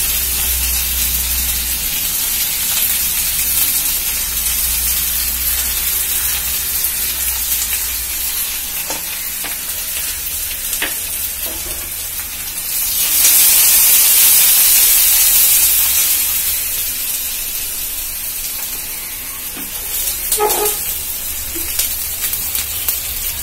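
Onions dropped into hot oil already crackling with cumin and urad dal, a steady sizzle that swells into a louder hissing burst midway before settling, with a few light utensil taps.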